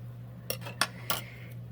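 Scissors cutting fabric for a butterfly tag: three short, crisp snips spaced about a third of a second apart, close and fairly quiet over a steady low electrical hum.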